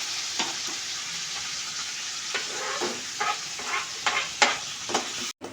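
Onions fry in a pan with a steady close sizzle, punctuated by several scraping stirs of a spatula at irregular intervals.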